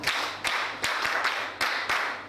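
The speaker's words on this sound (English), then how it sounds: "So can we clap for her?" Schoolchildren at Kpite State School in Ogoni clap together during a Children's Day reading event, a dense burst of hand claps that swells and dips in several waves over a couple of seconds.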